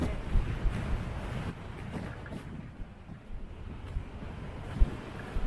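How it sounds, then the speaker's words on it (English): Strong wind of about 40 mph buffets the microphone in steady low rumbling gusts on the North Devon coast at Blackchurch Rock, with water and surf noise underneath and occasional louder bumps. "it's extremely windy"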